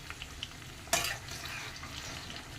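Drumstick (moringa) pieces fry in oil for hotel-style sambar, a soft continuous sizzle with one sharp scrape of a spatula against the pan partway through, close and fairly quiet.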